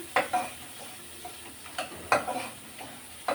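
Dried fish frying in a hot pan, an even sizzle broken by sharp intermittent scrapes and clacks of a stirring spatula, close by.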